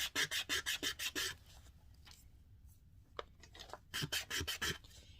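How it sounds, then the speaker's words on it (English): A resin chess piece base is rubbed against 180 grit sandpaper in quick, even rasping strokes, one burst early and another near the end, with quieter scrapes between, close and alone. "we go back to our 180 grit sandpaper, and we're just going to flatten that out"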